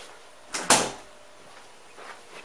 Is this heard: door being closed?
yes